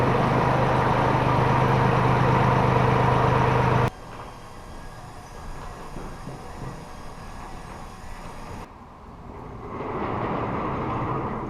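A Cub Cadet 7265 loader tractor engine drives toward a shop, a loud, close rumbling drone for several seconds that cuts to a quieter, distant hum, then a moderate engine noise returns.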